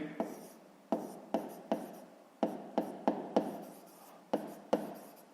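A pen scratches out a fifth-grade math solution on paper, close up, in short rhythmic bursts of strokes with brief pauses between them and no voices.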